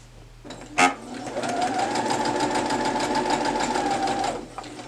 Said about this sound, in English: now what I'm going to do is drop my presser foot, and I'm going to start gathering the fabric